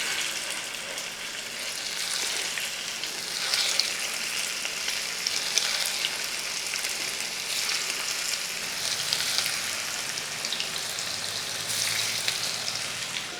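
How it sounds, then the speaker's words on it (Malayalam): Fish pieces frying in hot coconut oil, a steady dense sizzle with crackling spatter running the whole time at close range, with no voices. "ഇനി നമുക്ക് മീൻ അങ്ങോട്ട് പേരയ്ക്ക് ഓരോന്ന് ഈ ചൂട് എണ്ണയ്ക്കകത്തോട്ട് ഇട്ട് കൊടുക്കുക."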